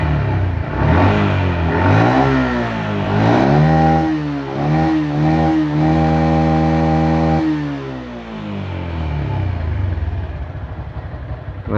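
An 11-year-old Yamaha Jupiter MX motorcycle, still on original parts with freshly changed oil, is revved repeatedly: the engine climbs and falls in several throttle blips, then settles back toward a rough idle, loud and close.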